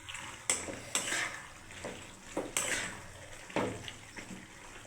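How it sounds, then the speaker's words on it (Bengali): Mixed vegetables with homemade fried bori stirred in a pan: a spoon scrapes and clanks against the metal in repeated strokes roughly once a second, close by, with a faint sizzle beneath and no talking. "আরেকবার ভালোভাবে নেড়ে দিচ্ছি।"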